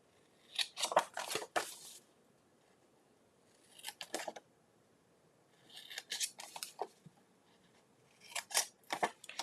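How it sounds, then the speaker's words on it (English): Scissors snip through the lid of a cardboard gift box up to the score line, in four separate bursts of quick, crisp cuts with short pauses between, close and clear with no talk. "This time we're going to cut over here up to the score line."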